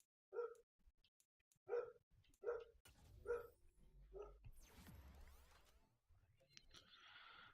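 A dog barks excitedly in a series of sharp, separate woofs about a second apart, somewhat distant, followed by scattered clattering noises and a brief high hiss near the end.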